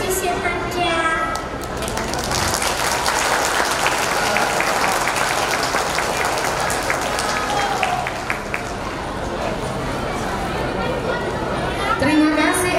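Audience applause at a kindergarten graduation ceremony, loud sustained clapping from a hall crowd with murmured chatter mixed in, lasting throughout before briefly easing near the end.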